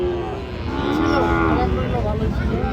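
Cattle of the Sahiwal breed moo at a livestock market in Brahmanbaria, a drawn-out low bellow rising and falling over a steady rumble of crowd noise and background chatter.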